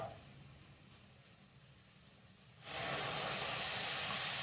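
A sudden loud hiss bursts in partway through as water is poured onto sprouted green gram in a hot pan, then a steady steaming sizzle continues to the end.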